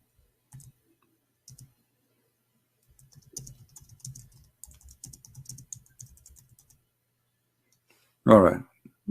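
Computer keyboard typing, a few scattered clicks early then a denser run of light keystrokes, fairly quiet, with a loud brief burst near the end.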